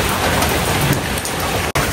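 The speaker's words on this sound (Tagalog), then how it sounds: "So grabe ang ulan." Heavy rain pours onto a house, a dense and loud steady roar of drops on the surface, close and constant with one brief cut near the end and no voices.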